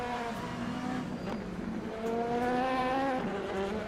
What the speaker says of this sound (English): Now you can hear the engine going.